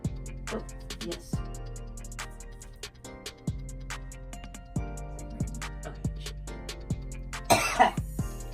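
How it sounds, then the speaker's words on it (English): A person coughs repeatedly, close and fairly quiet, with several short hacking bursts spread across the moment and a louder cluster near the end. "Every time I cough, I'm gonna apologize because it's fucking disgusting."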